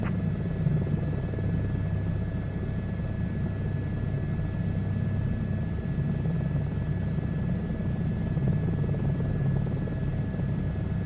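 A helicopter in the SU2 Beta flight game drones steadily throughout with a loud, continuous low rotor and engine rumble and a faint high whine, unbroken and with no talking.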